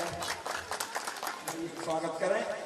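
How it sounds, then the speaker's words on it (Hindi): An assembly applauds to welcome its founder, Jagdish Prasad Mishra, with a burst of clapping from the room that is mixed with a voice talking over it. "जोरदार तालियों से आप लोग स्वागत करें"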